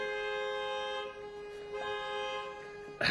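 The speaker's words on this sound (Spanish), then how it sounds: "Suena claxon." A car horn sounds in one long, sustained, steady blare, loud and unbroken for about three seconds before cutting off abruptly.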